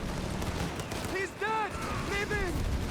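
Breda Model 30 machine gun fire in Company of Heroes 3 during a WWII-style battle, with short close bursts of rattling shots over a busy battlefield din and voice-like tones.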